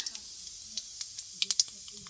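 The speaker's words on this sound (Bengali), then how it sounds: "বেগুন ভাজার তেলে আমি দিয়ে দেবো ফোড়ন দিয়ে দিচ্ছি কালো জিরে" Nigella seeds crackle faintly in hot oil left from frying eggplant, a soft sizzle broken by a quick run of small pops.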